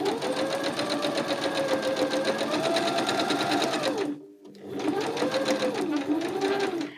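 Sewing machine stitching down the edge of a fabric pumpkin, a fast steady mechanical whir that runs loudly, stops briefly for a beat, then resumes with the same rapid rhythm.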